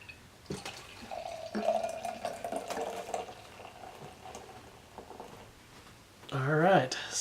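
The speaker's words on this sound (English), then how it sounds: "Just gonna give it a little aggressive pour there." Straffe Hendrik Brugs Quadrupel, a hazy brown Belgian quad, is poured aggressively into a glass with a faint gurgling trickle, while people speak over it and a voice rises near the end.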